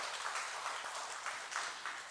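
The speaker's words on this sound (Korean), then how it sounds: "우리 박수로 환영하겠습니다." Worshippers at a Korean Sunday church service applaud to welcome a visiting member, a brief, bright burst of steady clapping from many hands, fairly close and heard alone.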